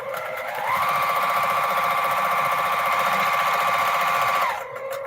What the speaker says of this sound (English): Now I sew and get my seam lined it up.